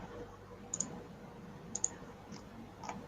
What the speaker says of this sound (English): I hear some mouse clicking.